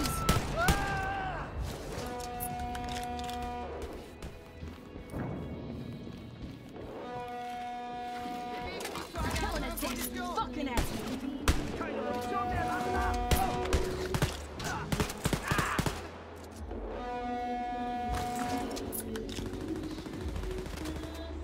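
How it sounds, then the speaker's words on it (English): Gunfire rattles through a firefight in the shooter Wolfenstein: Youngblood, with repeated loud automatic bursts and single shots over game music and sound effects, nearly continuous for about twenty seconds. "Let's shoot some Nazis!"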